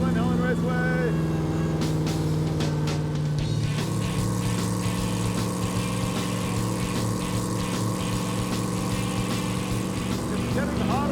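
A Hemi-powered Gremlin drives on a public street, its engine droning loudly and steadily with a shift in pitch a few seconds in, while voices talk over the rumble.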